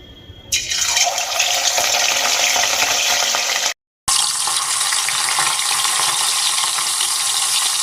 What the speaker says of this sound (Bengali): এবার আমি এই তেলের মধ্যে মাছগুলো ভেজে নেব